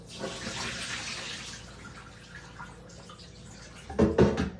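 Oxtail being washed under a running tap makes a steady, soft splash of flowing water, followed near the end by a brief, louder burst of splashing and handling.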